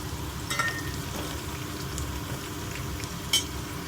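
Chana dal fries in oil in a pan for upma, giving a soft continuous sizzle with a couple of light scrape or clink accents, close and without talk.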